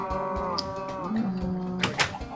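A cow moos in a farming video game, one drawn-out low call with a rising pitch, heard up close alongside a few light clicks and knocks.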